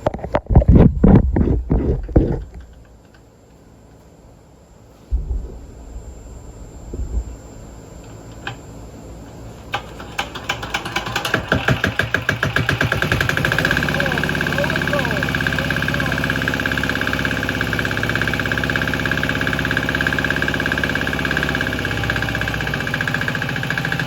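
A cheap Swan Power 3HP diesel engine from eBay coughs through a few rough firing beats, goes quiet, then catches and settles into a loud, steady, rapid knocking idle, close by.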